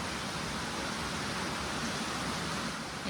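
Heavy rain pouring down, a dense, even wash of noise that stays constant throughout the short stretch.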